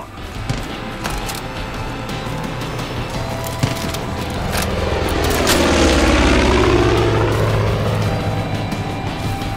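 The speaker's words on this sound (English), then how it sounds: "They've called in air support." Enemy air-support aircraft in Far Cry 5 roars overhead, its propeller engine drone swelling to a loud close pass around the middle and then fading, with a pitch sweep as it goes by.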